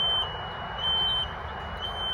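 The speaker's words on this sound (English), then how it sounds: "my security camera just alerted that there was a CO alarm" A carbon monoxide alarm sounds a steady, piercing high-pitched tone that holds without a break over a constant low background hum, loud and fairly close.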